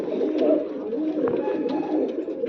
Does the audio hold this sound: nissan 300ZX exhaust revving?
no